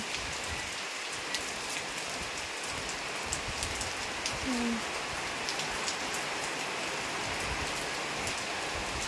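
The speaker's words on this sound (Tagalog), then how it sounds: "Lakas ng ulan" Heavy rain pours continuously, a thick even roar of drops drumming down without pause or speech.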